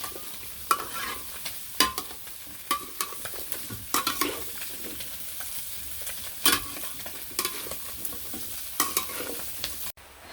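Curry frying in a pan, a steady sizzle broken by repeated sharp scrapes and clinks of a spoon stirring against the metal, fairly close and without speech.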